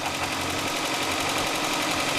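An old Lancia Scala car engine, recently pulled from years in a leaky barn, runs steadily at a rough, loud idle with a throaty mechanical clatter, the revs rising only slightly.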